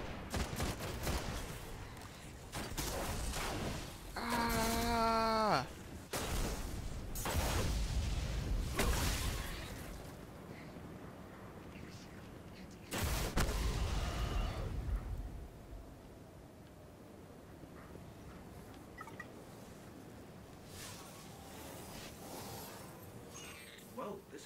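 Gunfire rattles in Destiny: Rise of Iron, with repeated close bursts and a swooshing energy sweep, then it tapers into quieter sporadic shots and low ambient hum. A voice talks through part of the exchange.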